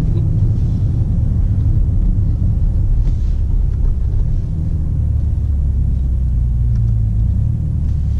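A BMW X5 M50d diesel engine rumbles deep and loud from inside the moving SUV, a steady low drone that holds throughout without pause.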